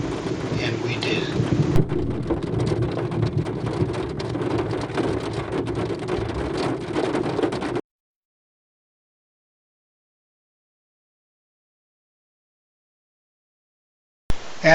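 A thunderstorm with heavy rain pours down on a parking lot in Asheville, North Carolina, a dense, steady wash for about eight seconds, then sudden silence and a brief loud burst of rain at the very end.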